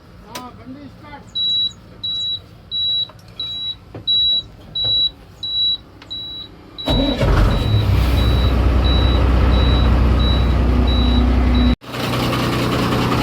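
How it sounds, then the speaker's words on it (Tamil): A car engine cranks and catches after a clutch assembly replacement, settling into a loud, steady idle close by. Before it, a warning beep chimes repeatedly, and near the end there is a brief cutoff. "வண்டி ஸ்டார்ட் பண்ணியாச்சு"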